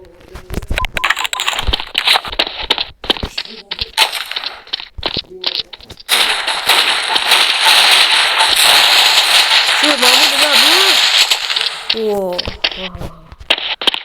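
Rapid bursts of explosions and crackling blasts in the video game Counter-Strike, loud and dense, with a stretch of sustained roaring noise and brief whistling tones near the end, and voices talking underneath.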